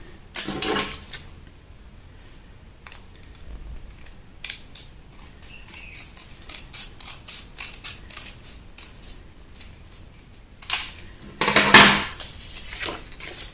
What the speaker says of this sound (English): When you are cutting paper with scissors